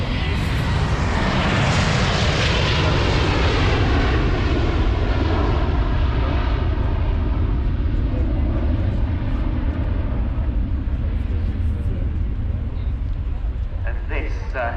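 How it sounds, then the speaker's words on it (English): Bombardier Global 8000 business jet passing in a flying display at Farnborough Airshow, a loud sustained engine roar that slowly fades as it moves away, with an announcer talking over it. "rolling from the right, our next display item, Bombardier GLOBAL"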